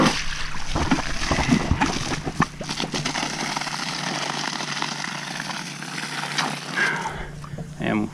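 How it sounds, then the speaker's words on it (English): Water gushes from a leaky hose into a sprayer tank on the back of a tractor, a loud steady rushing and splashing that lasts several seconds, with bursts of handling noise near the start and end. "you can fill up a sprayer on the back of a tractor in a real big hurry like that"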